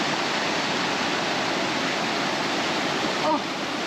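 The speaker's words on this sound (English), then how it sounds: "Now the water is a very strong pressure." Strong, fast-flowing stream in a jungle, a loud continuous rush of water filling the whole stretch with an even, dense roar.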